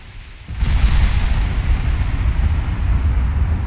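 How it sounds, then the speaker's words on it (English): Heavy, sustained low rumbling booms from 20-inch naval guns firing on battlecruisers in the game Ultimate Admiral: Dreadnoughts, rolling continuously after a sudden onset, with a dense thunderous roar. "those battlecruisers not faring too well against 20-inch gunfire"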